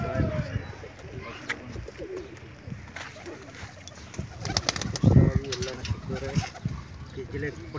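High-flying pigeons coo softly nearby, with occasional wing flutters, while people talk over them.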